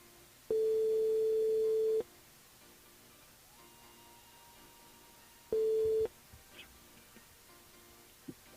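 Telephone ringback tone on the line as a radio show calls a listener, a clean steady beep lasting over a second, a pause, then a second shorter beep against a faint background hiss.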